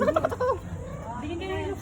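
A turkey gobbles in a quick, warbling burst up close, followed by softer low calls.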